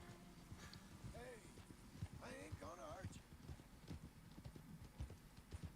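Horse hooves clip-clop in a steady run through the Red Dead Redemption 2 wilds of New Austin, with a whinny rising mid-way, all under continuous talk.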